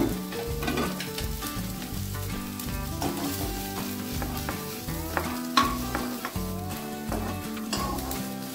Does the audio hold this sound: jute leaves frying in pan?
yes